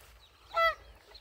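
A single short honking quack from ducks on a garden plot sounds once, faint and somewhat distant over low background noise, with no talk.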